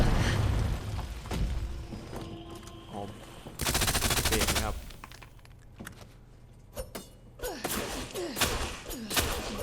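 Gunfire aimed at the Tyrant Mr. X in the Resident Evil 2 Remake, with several bursts of rapid shots breaking out between quieter stretches of game ambience, loud and close.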